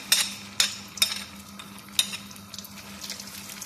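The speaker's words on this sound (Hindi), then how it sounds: "अब हमें इसको अच्छी तरह से भूनना है अव्वल देसी घी में" Mashed chana dal roasts in desi ghee in a pan, with a steady low sizzle punctuated by sharp scraping stirs of a spoon, roughly every half second and then irregular, heard up close.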